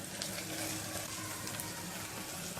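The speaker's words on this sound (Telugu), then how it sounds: "అల్లం వెల్లుల్లి పేస్ట్ వేసుకుని వేయించుకోవాలి" Ginger garlic paste fries in a pan for gongura mutton curry, giving a dense, even, close sizzle that holds steady throughout.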